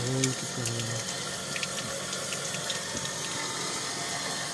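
Steady rushing of water from a village motor pump runs continuously with a low mechanical drone beneath it, while a voice speaks briefly at the start.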